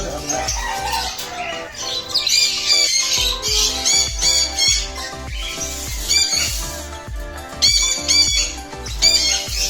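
Birds at a breeder's squawk and chatter loudly and repeatedly at close range, harsh calls overlapping with rustling and scattered background noise.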